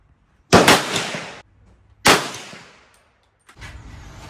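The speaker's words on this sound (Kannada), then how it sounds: "ಸೊ ಇಲ್ಲೂ ತುಂಬ ಜನ ಏನೋ ಶೂಟ್ ಎಲ್ಲ ಮಾಡ್ತಾ ಇದ್ದಾರೆ" Gunshots at an outdoor shooting range in Vietnam: two loud, sharp cracks about a second and a half apart, each trailing off in a ringing echo, then a fainter burst of noise.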